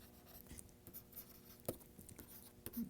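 Chalk or marker scratching on a board during a physics lecture on the Hubbard model, with faint intermittent taps and strokes at a quiet level and no talk over it.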